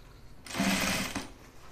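A sewing machine stitching the cuff of a reversible button-up shirt, one steady burst of fast, whirring stitching of about a second, close and loud, starting and stopping abruptly.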